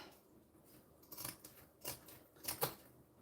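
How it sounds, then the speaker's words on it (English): Scissors cutting fabric near zippers while sewing, a few distinct crisp snipping strokes at irregular intervals, close and fairly quiet with no talk. "Just do the front part with these scissors, because there's zippers and stuff"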